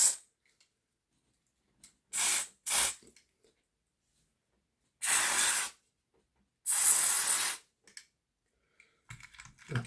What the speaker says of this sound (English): we'll give the locomotive a wee scoosh